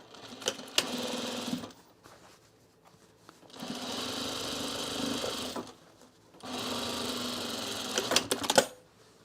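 A sewing machine joins trouser pieces in three sustained runs of stitching, each a couple of seconds long, separated by brief pauses and fabric handling.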